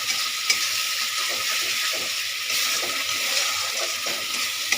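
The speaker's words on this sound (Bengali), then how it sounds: "এবার এটা কিন্তু পুরো ভাজা ভাজা হবে।" Yardlong bean paste sizzles and crackles in a hot pan, with constant soft scraping and occasional clinks as it is stirred and cooked down, steady and close.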